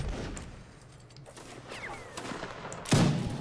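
Musket fire in Mount and Blade Napoleonic Wars, an Alamo-themed battle: scattered faint distant shots, then one loud close musket report near the end against a low battlefield background.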